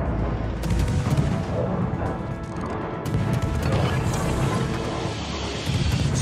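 Warship guns firing high-explosive shells in the naval game World of Warships, with heavy booming salvos and crashing impacts that repeat across a loud, busy battle mix and occasional game voice lines.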